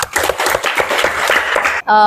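Classroom applause from students, a short burst of scattered clapping in a room, ending with a brief electronic tone.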